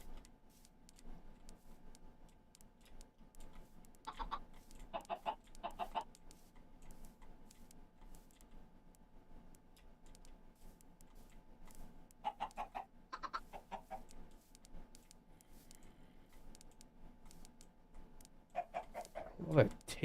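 Chickens in a video game give short bursts of clucking in three separate clusters, fairly close and moderate in volume, against a quiet background with a voice speaking at times.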